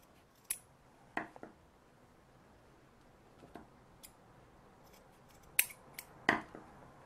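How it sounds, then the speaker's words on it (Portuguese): Scissors snip through excess bag strap in a handful of sharp, quiet, close cuts spaced irregularly against a near-silent background. "Deixa eu cortar esse excesso de alça aqui."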